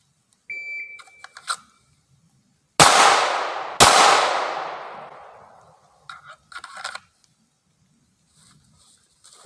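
.22 caliber gunshots at a shooting competition: two sharp, loud reports about a second apart, each with a long fading echo, followed by faint clicks and handling noises.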